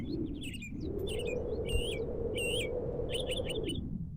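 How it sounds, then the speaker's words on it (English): Repeated chirping bird calls in the Second Life video game, bright and close in short bursts, over a steady low engine-like rumble from a drive through the virtual world. "That's aggressive bird."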